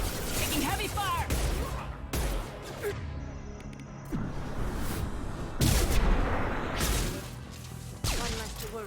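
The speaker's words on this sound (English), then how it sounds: "Taking heavy fire!" Heavy gunfire rattles through a Mass Effect firefight in loud, ragged bursts with crashing impacts, some sharp and close, and voices speak over the combat.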